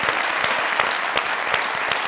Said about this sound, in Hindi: आप लोगों की जोरदार तालियों में